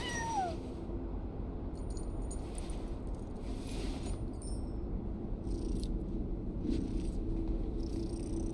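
Ashru, a cat in the Genshin Impact video game, meows and purrs softly against a steady ambient bed, with a few brief high chirps scattered across the clip.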